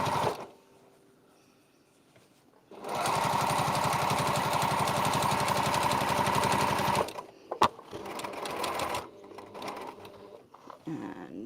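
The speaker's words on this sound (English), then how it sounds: "And now we're going to sew straight to the other corner." A sewing machine stitches fabric straight across to a corner, whirring in a fast, steady run for about four seconds and then stopping, followed by a few quieter handling sounds.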